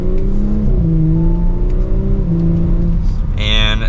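A 2023 Audi S5 Premium Plus Sportback pulls hard from second gear, its engine note rising steadily and continuously, close and loud inside the cabin, with a brief higher whine near the end.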